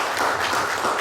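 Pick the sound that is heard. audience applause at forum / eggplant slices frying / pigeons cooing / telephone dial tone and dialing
audience applause at forum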